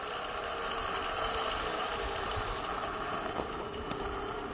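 AC motor running under load, a steady close mechanical hum with a faint whine and a few small clicks near the end, continuous and fairly quiet throughout.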